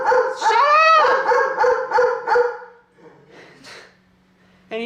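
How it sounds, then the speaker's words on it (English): A dog barks and yelps in a rapid string of loud, close barks with whining, tonal edges, then falls quieter before a final sharp bark at the end. "the fucking dog won't stop barking!"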